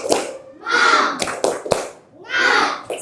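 Children in a classroom doing a rhythmic cheer clap, chanting in unison between crisp group claps in a quick patterned sequence, loud and close.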